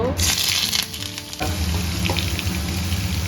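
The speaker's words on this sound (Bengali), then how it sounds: "এখন বেগুনটা একটু ভেজে নেব" Thin-sliced eggplant, soaked in water beforehand, frying in hot oil in a home kitchen, giving a steady close sizzle with a brief lull partway through, then the crackle resuming loudly.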